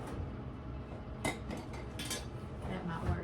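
A spoon or small whisk stirs a thick, not-yet-melted peanut butter and chocolate mixture in a bowl, making soft continuous scraping with a few sharper clinks against the bowl, close and fairly quiet.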